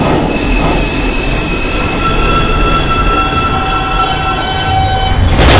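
An R142 5 train on the IRT subway mainline in Brooklyn runs loud and steady with a continuous rumble of wheels on rail and sustained high squealing tones, ending in a sharper burst of noise.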